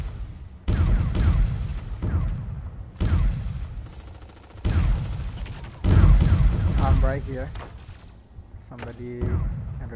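Several loud bursts of rapid gunfire in the video game Super Mecha Champions erupt in separate volleys, with booming echoes between them.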